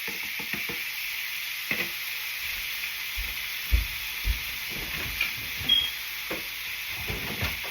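Shrimp dropped into a hot pan with garlic for a southern étouffée, giving a steady soft sizzle with scattered stirring clicks and scrapes, fairly quiet and close.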